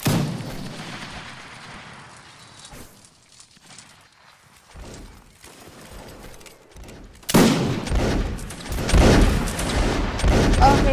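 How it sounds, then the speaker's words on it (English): Rifle volleys from a group of soldiers in a video game: a spread of overlapping shots for about three seconds, a quieter stretch, then a louder, denser burst of fire that continues to the end. "Okay, guys, you can stop firing at Will."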